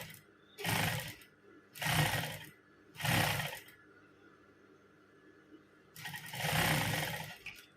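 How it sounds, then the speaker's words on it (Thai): Sewing machine stitching a two-layer fabric ruffle, four distinct bursts of rapid mechanical whirring separated by short quiet pauses, close and fairly loud, the last run longest. "เราจะเย็บให้ดูนะคะ การทำระบาย สองชั้นค่ะ"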